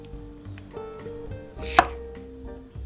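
A kitchen knife cuts through red and yellow bell peppers on a cutting board, a few soft strokes followed by one crisp chop landing near the middle, close and clear.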